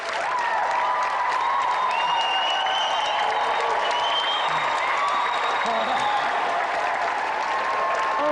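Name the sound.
studio audience cheering and applauding after game show win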